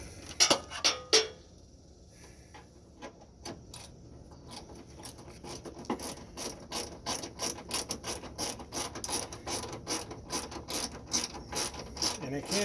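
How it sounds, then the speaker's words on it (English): A Matco ratchet clicks through a series of quick, evenly spaced ratcheting strokes, starting with a few louder clicks, then a brief pause before a steady run of sharp, close metallic ticks to the end. "No, it's not a snap-on ratchet. It is a Matco ratchet."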